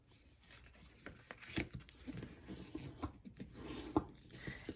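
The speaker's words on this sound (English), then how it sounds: "Here's how I'm going to fold the card in half and then fold one panel back" A paper card is folded in half for a Z-fold card, with soft rubbing and light creasing rustles, quiet and close, with no talking.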